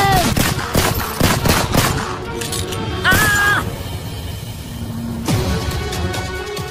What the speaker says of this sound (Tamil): பியான் சிங் தன்னோட துப்பாக்கியை எடுத்து இந்திரா காந்தியை நோக்கி துப்பாக்கியால சுடுறாரு.